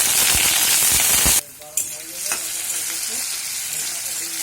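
Potato pieces drop into hot oil already crackling with nigella seeds and slit green chillies. A loud, bright sizzle cuts off sharply, then a quieter, steady frying hiss follows with a few small pops.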